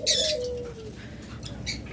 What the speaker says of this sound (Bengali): আমাদের এই সেট সব সবসময় হিউজ পরিমাণ পাখি থাকে